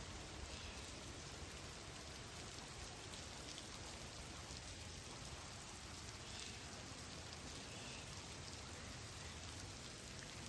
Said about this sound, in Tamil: சுத்தி பார்த்தா மழை பெய்ஞ்சிட்டு இருக்கு.